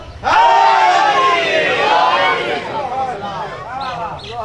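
A crowd at a religious majlis chanting a slogan in unison, a loud sustained collective shout that fades, followed by a few shorter calls.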